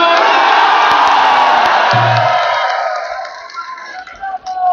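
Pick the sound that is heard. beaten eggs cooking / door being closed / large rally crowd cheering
large rally crowd cheering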